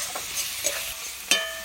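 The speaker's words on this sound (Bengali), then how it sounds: "সব কিছু একসাথে ভালো করে কষিয়ে নেব।" Turmeric, red chili and Kashmiri chili powder with tomato paste fry in oil, a soft continuous sizzle broken by three quick scraping stirs, close and with no voices.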